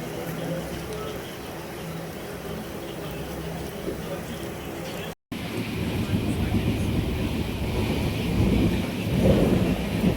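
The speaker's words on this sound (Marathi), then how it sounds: "जसं जसं आपण कोकणाच्या दिशेने जातो आपल्या गावाच्या दिशेने जातो तसा पाऊस तर अजूनच वाढत चालला" Heavy monsoon rain and rolling thunder roar as a broad, constant wash heard from inside a Diva–Ratnagiri passenger train heading into the Konkan, briefly cutting out midway before swelling louder.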